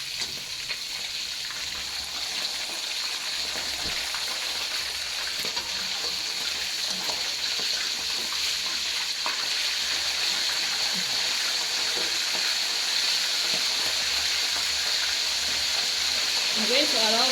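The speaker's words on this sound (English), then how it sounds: "My fish has been frying for the past 6 minutes on one side," Fish fries in a pan, giving off a continuous, even sizzle with a bright hiss that holds steady for the whole stretch with no talking.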